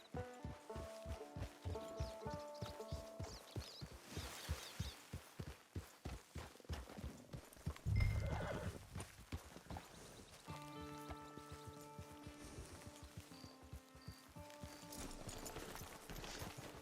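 Rhythmic horse hoofbeats in Red Dead Online clip-clop at a steady trot, fading into a wash of soft music and flowing ambience, with a thump midway.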